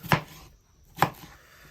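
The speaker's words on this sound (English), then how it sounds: "Chop them up good." A kitchen knife chops through an onion on a board: two sharp, close, distinct chops about a second apart with quiet between them.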